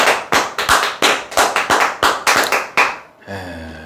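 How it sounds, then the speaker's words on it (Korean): A small audience claps, about ten sharp, separate hand claps in a quick, uneven rhythm, close and loud, followed by a voice starting to speak at the end. "박수 한번 주시죠"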